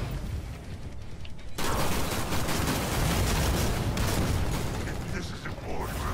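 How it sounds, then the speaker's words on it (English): Gatling gun firing in Killing Floor 2, a loud sustained burst of rapid gunfire with booming impacts that begins abruptly and continues steadily to the end, with players' voices mixed in. "And a Gatling gun."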